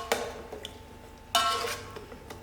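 A spoon stirs fish biryani with baby hake in a pot, giving a few sharp metallic clinks and scrapes against the pot, with a longer scraping stir near the middle, close and fairly quiet.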